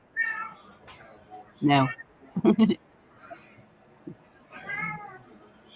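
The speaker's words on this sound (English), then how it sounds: "my cat here at the window watching me through the doors in the room I'm in" A cat meowing at a window, several distinct meows spaced apart, fairly close and clear, with a person speaking briefly between them.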